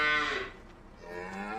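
Cattle in the video game Farming Simulator 25 give a long, loud low moo that fades, followed by a second quieter drawn-out moo.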